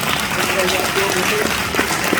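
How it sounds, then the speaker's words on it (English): Audience applause at a question-and-answer session after a movie premiere, a dense sustained clapping wash with faint voices and murmurs mixed underneath. "Give a round of applause for his question."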